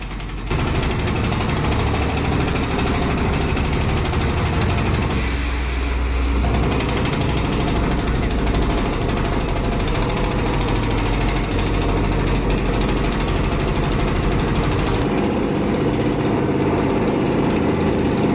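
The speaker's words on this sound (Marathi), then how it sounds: "त्याच प्रकारचं थोडंफार वर्किंग आहे पण ह्यामध्ये एअर आणि वॉटर या दोघांचा प्रेशर पण वापरला जातो आहे फुल्ली हायड्रॉलिक मशीन आहे" A fully hydraulic boring machine using air and water pressure drills a horizontal hole inside a well, a loud continuous hammering engine roar that runs nearly unbroken, with a brief change in tone partway through.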